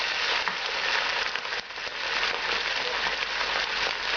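Chicken pieces in a pan hiss steadily as white wine is poured in, a continuous bright sizzle with light crackles, close and fairly loud, with no talking.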